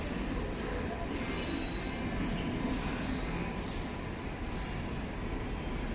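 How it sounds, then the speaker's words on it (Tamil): Passenger train bound from Karaikal to SMVT rushing past on the opposite track, heard from inside a moving train as a loud, steady rumble and roar of wheels and carriages for the whole stretch. "நம்மளுக்கு ஆப்போசிட்டில் ஒரு ட்ரெயின் கிராஸ் பண்ணது பாருங்கள். காரைக்கால்லேருந்து எஸ்எம்விடி போகிற ட்ரெயின் தாங்க."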